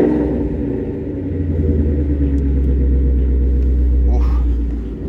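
A 2018 Ford Mustang GT with a 5-liter V8 idles nearby in a deep, steady rumble that swells slightly partway through, with faint background noise from the lot.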